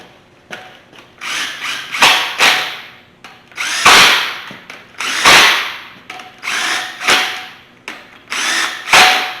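Power tool running down bolts on a junkyard 5.3 LS-based engine being prepped for a swap, in a string of short, loud, close whirring and rattling bursts separated by brief pauses.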